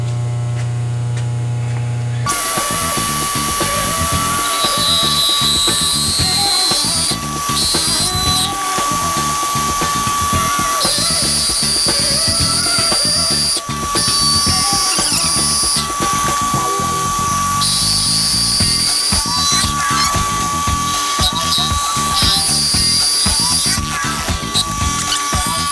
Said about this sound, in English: So we'll just mill a little slot and then I'll show you where we're at.